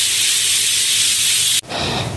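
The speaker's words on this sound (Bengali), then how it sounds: "এখন প্রেসার কুকারের ঢাকনাটা লাগিয়ে একটা সিটি হওয়া পর্যন্ত অপেক্ষা করব।" A pressure cooker on the stove, cooking cabbage in water, lets out a loud continuous steam hiss that drops sharply and then resumes at a slightly lower level.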